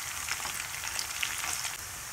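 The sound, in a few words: frying cumin, dried chilli, bay leaf and cinnamon in oil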